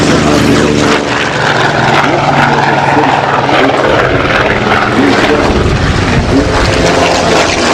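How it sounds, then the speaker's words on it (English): Four Griffon-engined Spitfire fighters fly overhead in formation at an airshow, a loud, continuous, throaty piston-engine roar with a deep rumbling drone that swells slightly as they pass. "Up front you have a Dynamo 4 formation of four Griffin engine Spitfires."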